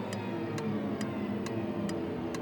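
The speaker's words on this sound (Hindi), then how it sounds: "ये टिक टिक टिक टिक आवाजें कहाँ से आ रही है?" Steady mechanical ticking, about two beats per second, coming from a box in an indoor room, clear and even against a low background hum with no talking.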